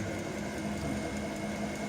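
A fuel pump running on a test bench at 300 RPM gives off a steady mechanical hum with a constant tonal whine, even and uninterrupted throughout, close and moderately loud.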